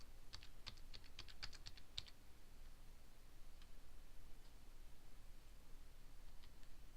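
Quick run of computer keyboard keystrokes entering a date in farm-management software, a dozen crisp clicks in the first two seconds, then a few scattered taps, faint over a steady background hiss.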